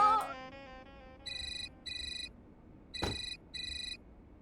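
A phone rings out during a call, repeated short electronic trilling bursts in an even pattern with a brief click and a tone at the start, close and clear with no talking over it.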